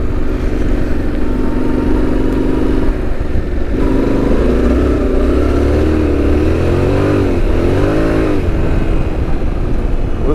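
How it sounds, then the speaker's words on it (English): A Yamaha Tenere 700 motorcycle engine revs on a wet trail, its loud, steady drone rising and falling through several throttle surges, with the rider close by. "Listen to that engine"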